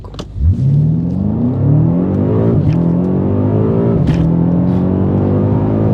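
A BMW F90 M5 pulls away hard from a low rumble, its engine note climbing in loud, rising sweeps broken by two quick upshifts with brief dips and clunks between gears, recorded close with no speech.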